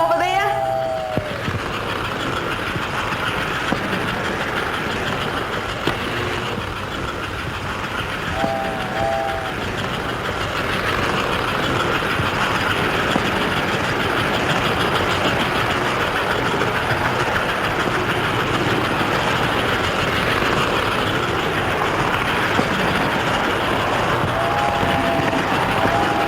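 American Flyer model train running along two-rail track, a steady continuous rolling rumble with faint intermittent whistle-like tones, heard throughout under a narrator's voice.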